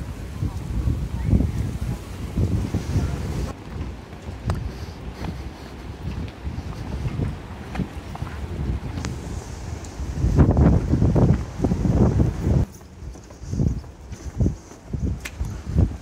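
Strong wind gusts across a seaside promenade, roaring and buffeting the microphone in a continuous low, loud rush that swells and eases, with occasional footsteps and faint background sounds.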